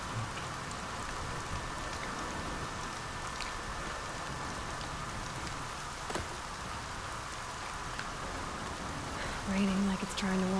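Steady rain falls in the video game Horizon Zero Dawn, a constant patter of drops on surfaces at moderate volume, with a faint tonal hum near the end.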